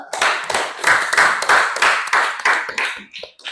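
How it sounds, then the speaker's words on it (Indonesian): A classroom of students claps their hands together for several seconds, a dense run of close, bright slaps with a rhythmic pulse that thins and fades at the end. "Tepuk tangan dulu, baik ya"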